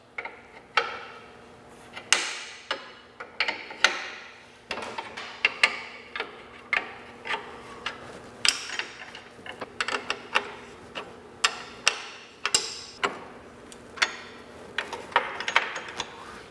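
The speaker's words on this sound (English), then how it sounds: "we're going to loosen these carriage bolts here on both head assemblies" Wrench loosening carriage bolts on the head assemblies of a hydraulic through-frame RV slide-out room, producing a run of close, regular ratcheting ticks and metallic clicks with no talk.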